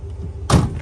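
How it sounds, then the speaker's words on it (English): Tailgate of a 2021 Ram 1500 Limited 4x4 pickup dropping open: a single brief clunk and rattle against quiet background, close and fairly loud. "Obviously, it'll open like a normal tailgate."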